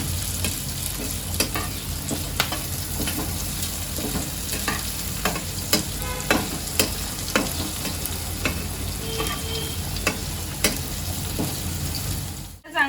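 Sabudana khichdi ingredients with salt stir-fried together in a pan: a steady close sizzle with frequent scraping strokes of a spoon throughout, no talking.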